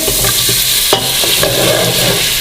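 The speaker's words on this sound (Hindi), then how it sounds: "इसको मिक्स करेंगे, थोड़ी देर इसके अंदर इसको भूनेंगे" Mutton with turmeric and black pepper powder fries loudly in a pot for yakhni soup, a dense sizzle broken by a few sharp spoon scrapes and knocks as it is stirred, close up.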